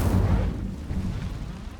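Incendio fire spell cast in Hogwarts Legacy, a heavy low whooshing burst of flame that booms at the start and then rumbles on in a dense roar before easing off slightly.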